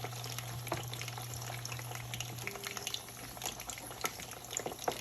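Pork griot pieces sizzle and bubble steadily in hot canola oil, a dense continuous crackle up close with a low steady hum under it and no talk.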